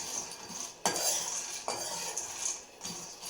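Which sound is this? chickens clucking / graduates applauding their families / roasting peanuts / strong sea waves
roasting peanuts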